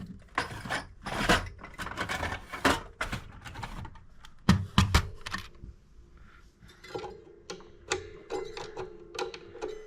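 A wrench works on the hardware of a Gibson distressed Master Model F5 mandolin, giving close, dry ratcheting and metallic clicks in irregular bursts with short pauses, quieter ticking toward the end.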